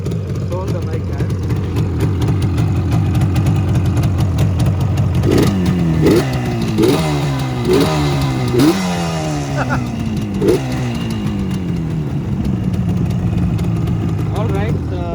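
A Yamaha RD350 HT two-stroke motorcycle engine idles with a raspy, popping burble, then is blipped in a series of sharp rising revs that fall back to idle, loud and close throughout.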